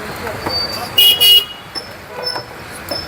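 Car horns honk in a traffic jam on a Pune road: two short, close toots in quick succession stand out over a steady hum of traffic, with fainter horn blips afterward.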